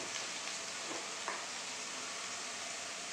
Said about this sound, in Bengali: এবার এই মশলাটাকে ভালো করে কিন্তু কষিয়ে নেব।